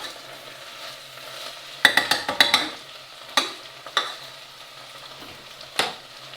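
Onions caramelizing in a pot for French onion soup, with a soft sizzle underneath and a cluster of sharp utensil scrapes and knocks against the pot, followed by a few isolated scrapes.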